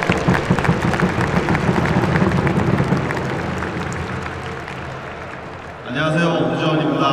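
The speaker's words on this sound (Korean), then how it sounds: "팬 여러분 큰 박수 한 번 더 보내시면 고맙겠습니다." Baseball fans in a stadium applaud at a pitcher's retirement ceremony, a broad, steady roar of clapping and crowd noise that slowly fades, then gives way to an amplified voice speaking over the ballpark.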